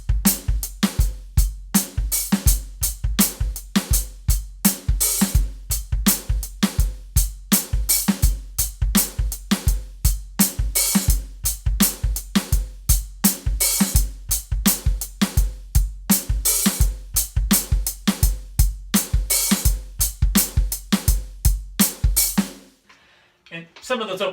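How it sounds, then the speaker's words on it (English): A drum beat plays a steady, loud groove of swung closed hi-hats, open hi-hat accents and kick drum hits, running alone until it stops abruptly near the end. "we're going to basically add an open hi-hat, because right now the hi-hat is just eighth notes"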